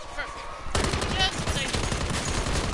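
Rapid bursts of gunfire in a zombies shooter game, loud and continuous, with a brief quieter lead-in before the shooting starts and players' voices faintly mixed in.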